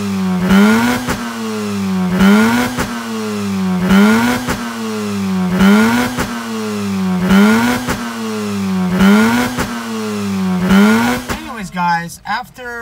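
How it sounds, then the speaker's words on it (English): A Mazda RX-8 rotary engine after ignition coil and spark plug wire work, loud and close, revving in a regular rhythm of rising and falling blips, each falling back to a smooth idle; no talking. "this sounds like very smooth idle"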